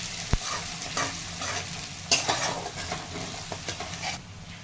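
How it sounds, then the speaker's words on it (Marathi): Coconut, onion and curry leaves sautéing in a pan, a steady close sizzle broken by a few sharp scrapes and clicks of stirring, with no talk. "आता हे परतून घेत आहे खोबरं कांदा सारं असा कढीपत्ता टाकलेला आहे"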